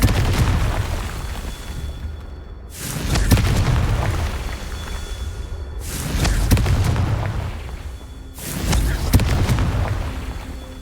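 Confringo fire spells explode in the Hogwarts Legacy video game as four heavy, booming blasts, spaced roughly evenly apart, each with a sharp onset and a rumbling decay.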